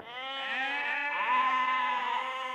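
A single sheep bleats in one long, wavering cry that holds steady and fairly loud before trailing off, with nothing else around it.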